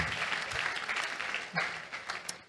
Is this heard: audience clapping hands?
yes